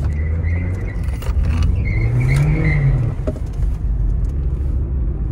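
Nissan car engine revving hard up close: a loud, continuous rumble that climbs in pitch and then falls back, with a steady deep engine drone underneath throughout.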